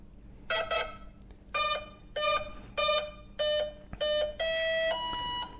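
A brushless motor's ESC plays its calibration beeps, a series of clear electronic tones in short groups that step in pitch, ending on a longer sustained tone, close and distinct over a quiet background.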